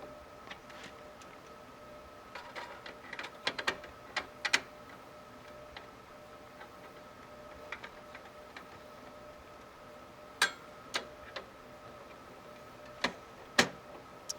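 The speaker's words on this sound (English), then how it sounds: "go over my screws to make sure everything is tightened securely" Small screws being tightened on a desktop computer build: sparse, faint metallic ticks and clicks scattered irregularly over a quiet room background, with no talking.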